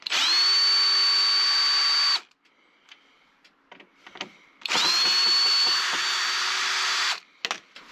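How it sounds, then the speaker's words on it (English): A cordless electric screwdriver whirs at high speed in two sustained bursts of about two seconds each, loud and close, while fixing a broken latch on a Dometic Seitz caravan habitation door, with small clicks and handling noises between runs. "a pair of pliers and a screwdriver, electric preferable"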